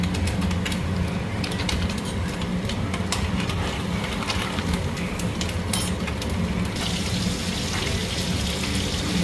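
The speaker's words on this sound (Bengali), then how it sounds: "ঝোলটা ভালো মতো ফুটে গেছে" Curry gravy bubbles at a steady boil in a pan, a continuous close hiss and simmering roar with faint crackles throughout.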